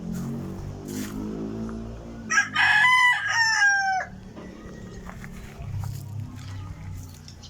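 A backyard rooster crows once, loud and close, a rising-and-falling call of about two seconds, with other low fowl noises and faint clucking around it.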